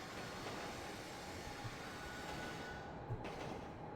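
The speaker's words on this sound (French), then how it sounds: "Attends, il y a un tramway derrière nous." A tram rumbling past behind the players in a GTA roleplay game, a low steady rolling drone with faint rail clatter, fairly quiet and continuous throughout.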